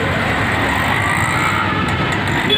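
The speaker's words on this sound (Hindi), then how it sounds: "देखो ट्रैफिक, देखो" Steady, dense city road traffic beside metro construction work rumbles continuously, with engines and tyres blending into a constant wash of noise and no distinct voices.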